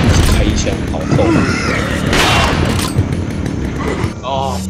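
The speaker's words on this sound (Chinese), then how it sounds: "一直开枪" Continuous gunfire from the video game Resident Evil 4, dense rapid shots and booms packed together at high volume, with a player's voice talking over the action.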